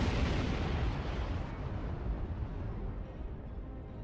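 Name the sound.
support weapons fire in Star Trek Online video game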